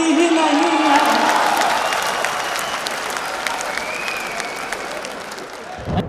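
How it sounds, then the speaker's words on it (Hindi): A large audience at a Hindi comedy poetry recital claps loudly in a hall. The dense applause starts strong, then slowly thins and fades, with a few cheers mixed in. "वैसे ही ताली बजा दीजिए"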